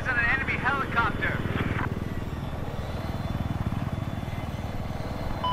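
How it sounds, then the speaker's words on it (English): An enemy attack helicopter in a battle royale video game, its rotor chopping in a steady, loud rapid pulse throughout, with a voice speaking briefly over the start. "I spotted an enemy helicopter."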